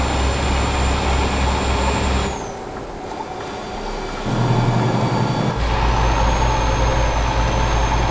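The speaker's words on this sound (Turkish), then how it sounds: "Retarder motor freni anca durduruyorum arabayı" A heavy Vabis 124G truck grinds down under its retarder engine brake on a dangerous highway, a loud, steady low rumble that dips for a couple of seconds mid-clip before swelling back to full strength.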